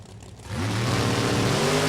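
Drag racing door cars launch as the final qualifying pair, engines bursting from a quieter idle into a loud, sustained roar with rising harmonic whine that fills the remaining second and a half.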